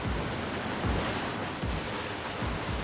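An electric car pushes slowly through a deep flooded pool, churning water in a steady broadband wash with low surging swells, continuous and fairly loud, with no voices.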